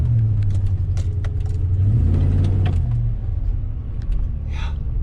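A surplus Chevrolet Suburban with an 8.1 liter engine idling nearby, a steady low rumble with faint rattles and clicks, no talking.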